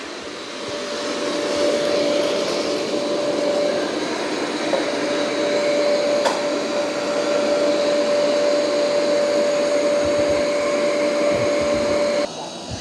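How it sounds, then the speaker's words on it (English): An Ecovacs robot vacuum cleaner sucking up small rocks on a floor gives a loud, steady whirring drone with a constant high whine and one brief click near the middle. "He is vacuuming up the little rocks."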